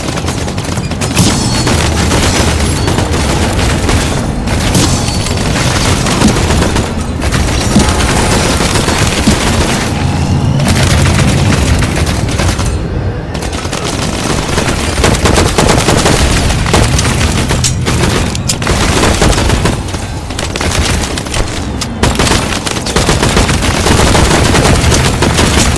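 Sustained, loud gunfire in rapid bursts and machine-gun volleys, with booming reports layered over one another and brief pauses between strings of shots, continuing almost nonstop.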